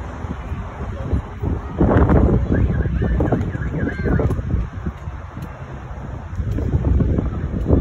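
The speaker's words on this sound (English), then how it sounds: "Definitely nice and breezy and cool up here." Wind buffets a microphone on a coastal walking path in Miraflores, Lima, Peru, giving loud, gusty low roaring that swells and fades, with a voice speaking briefly over it.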